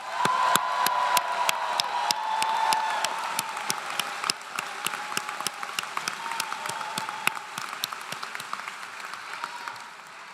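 Audience applause at a commencement ceremony for physician assistant and doctoral graduates: steady, dense clapping with scattered cheers, fading slightly over about ten seconds, with sharp individual claps standing out near the end.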